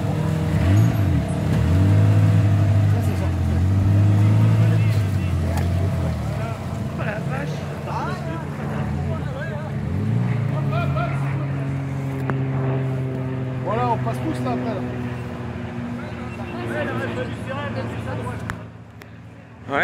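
Motorboat engine opening to full throttle, a loud, low, rising drone that peaks early and then steadies and fades slightly. Voices talk over it throughout.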